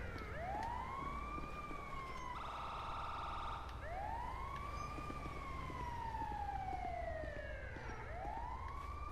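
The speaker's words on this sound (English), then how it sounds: "I see an ambulance" A wailing emergency siren from a Grand Theft Auto V ambulance sweeps up and down steadily for the whole stretch, loud and continuous, with a brief harsher two-tone burst partway through and no talking over it.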